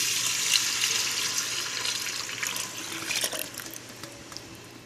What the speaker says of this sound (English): here's the milk, and we're gonna add this in the pot